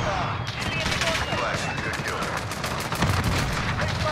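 Dense rapid gunfire and shotgun blasts from a shooter video game, loud and continuous throughout with a bigger boom near the end.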